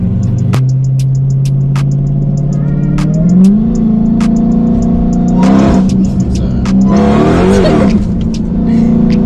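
A loud 1000-horsepower Dodge Hellcat engine revs up, the pitch climbing in surges as it accelerates, with some rattling and whooshing bursts along the way.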